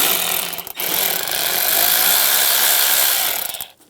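A ratchet with an 8mm socket loosens a worm clamp at the throttle body of a 2015-2020 GMC Yukon XL, heard up close as a loud, continuous rasping clatter for several seconds before stopping abruptly.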